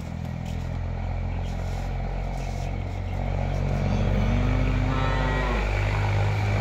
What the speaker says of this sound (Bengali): চমৎকার কোয়ালিটির এই যে গাই বাছুর যাচ্ছে